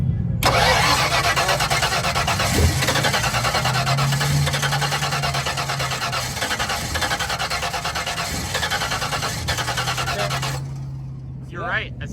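A drag race car's engine cranks at a high-altitude drag strip, with a rough, sustained starter grind and a strained whir lasting about ten seconds before it cuts off. Voices talk nearby.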